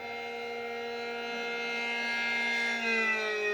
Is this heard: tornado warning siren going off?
yes